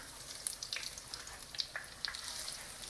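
Eggplant slices frying in hot oil, a steady soft crackling sizzle with scattered sharper pops and spits, fairly quiet and close.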